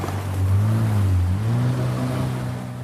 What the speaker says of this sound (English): He grabs the tow rope and steps onto the board as the jet ski leaves the dock.